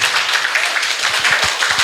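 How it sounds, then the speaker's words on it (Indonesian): Audience applause at an Indonesian teachers' dissemination session, brisk continuous clapping from a nearby group filling the short clip with no talk over it. "Terima kasih, tepuk tangan."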